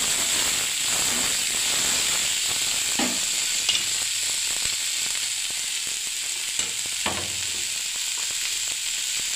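Beans and other vegetables sizzle steadily in a hot pan for suji upma, a continuous close frying hiss with a few brief louder crackles as pieces go in, no talking.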